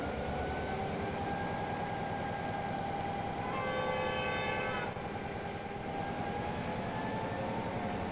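A T-Class diesel locomotive in the Trainz video game on an Australian route rumbles steadily throughout, with a loud multi-tone horn blast sounding for about a second midway over the engine drone.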